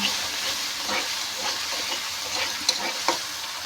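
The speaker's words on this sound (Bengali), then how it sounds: "পেঁয়াজটা ভাজা হয়ে গেছে তারপর দিব মশলা আদা রসুন জিরে বাটা দিয়ে একসাথে সব মিক্স করে নিয়েছি" Onions frying in a pan with ginger, garlic and cumin paste, a steady loud sizzle with soft scraping and stirring sounds throughout, no voices.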